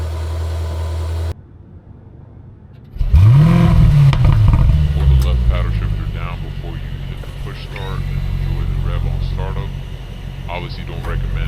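Mercedes-AMG GLE 63 S V8 SUV engine starting up at night. After a brief lull it bursts into a loud, deep rev that swells and falls, then settles into a steady, heavy rumble.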